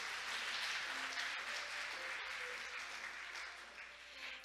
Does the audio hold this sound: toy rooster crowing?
no